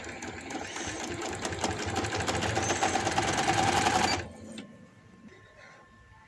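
A sewing machine stitches a belt onto palazzo pants in one continuous, close, steady run of rapid needle strokes that stops abruptly, leaving quiet room tone.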